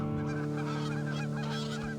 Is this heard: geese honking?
yes